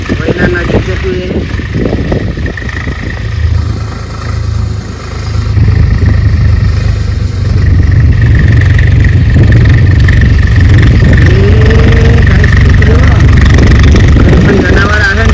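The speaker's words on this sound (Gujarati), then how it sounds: "એ ટ્રેક્ટર આવ્યો" A tractor engine drones loudly nearby, its low rumble rising and thickening as the machine draws closer and passes. A voice speaks over the engine.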